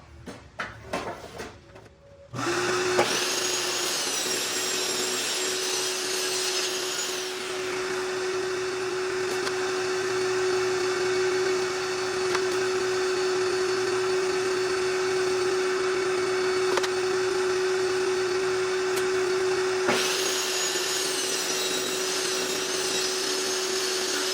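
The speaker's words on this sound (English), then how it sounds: "we're going to send this white wood through the table saw" A table saw cuts through a white wood plank, a steady, loud, high whine with the blade's tone holding for about twenty seconds after spinning up, with changes in pitch as the wood feeds through.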